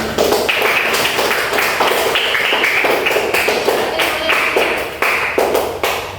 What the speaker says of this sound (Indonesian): Tepuk tangan untuk Ken